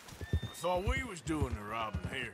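A horse in Red Dead Redemption 2 whinnies loudly between clip-clopping hooves as someone speaks over it.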